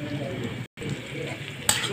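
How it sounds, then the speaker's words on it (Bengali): Chicken and eggs fry with spices in a pan, making a close, steady sizzle that breaks off for a moment and then resumes with a brief sharper crackle. "দিয়ে আমরা তারপরে এগুলো ভালো ভেজে মশলা দিয়ে এগুলো আমরা ভালো করে ভেজে নেব"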